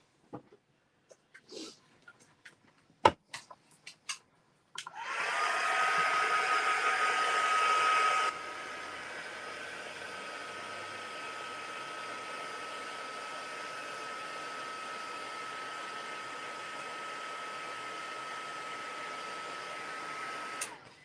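Handheld heat dryer running close by over a paper craft project, switching on with a loud steady whir that eases to a slightly lower constant drone, after a few scattered taps and clicks.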